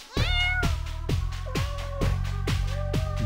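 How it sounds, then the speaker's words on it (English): A domestic cat meows several times in a row, each call near and clear with a falling pitch, over a steady musical background. "Ah, there you are, kitty. Good kitty."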